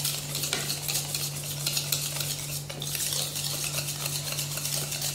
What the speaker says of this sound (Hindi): अब इसमें हम शक्कर मिला देते हैं